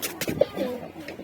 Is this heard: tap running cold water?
no